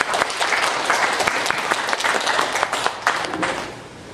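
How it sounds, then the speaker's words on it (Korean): Dense, sustained audience applause fills a shareholders' meeting hall for about four seconds, many hands clapping steadily at close range with no talk over it. "박수 부탁드립니다."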